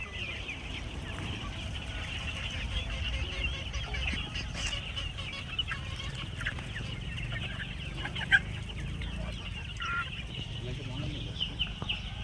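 Chickens on a poultry farm set in a lemon orchard cluck and call continuously, a steady flock chorus at moderate level with scattered louder squawks and occasional faint voices in the background.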